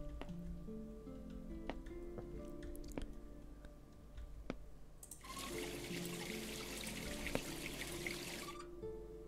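Liquid poured in a wine cellar puzzle of a PC escape game, a steady hissing pour running for about three seconds over a quiet background hum, preceded by a few faint clicks.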